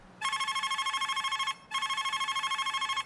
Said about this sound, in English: In early December, the first Librem 5 dev kit makes a phone call.